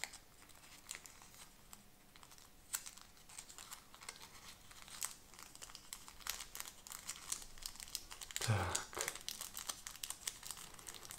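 Paper being folded into a small envelope for storing seeds of carnivorous plants, with soft crinkling and scattered crisp creases, one louder crumple near the end, close and quiet with no talk.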